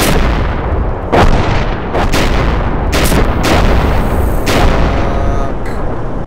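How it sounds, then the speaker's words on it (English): Artillery in the Arma combat video game, with repeated loud booming shots and sharp gunfire cracks over a dense, continuous roar of battle. "Request artillery on this target."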